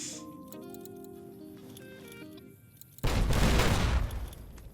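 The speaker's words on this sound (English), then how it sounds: "I don't think those are dummy grenades." A grenade blast erupts in the Fallout New Vegas game, a sudden loud broadband burst about three seconds in that rumbles and fades, following a stretch of quieter game tones and music.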